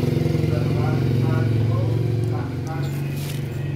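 Automatic scooter with a rough-sounding CVT transmission, a steady loud engine drone with a low hum throughout, close up and easing slightly toward the end.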